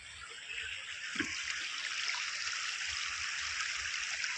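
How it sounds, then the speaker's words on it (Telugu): Clear mountain stream at Maredumilli flowing down from the hillside, a steady broad rushing and trickling of water close by, continuous and alone without voices. "ఇదంతా సెలయేరు, కొండల నడుము నుంచి వస్తున్న సెలయేరు ఇది."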